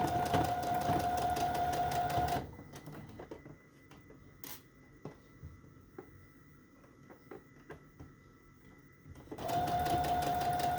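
A sewing machine stitches down the middle of a fabric and lace snippet roll in loud, steady bursts, with a quieter pause between the runs where small clicks and handling sounds are heard.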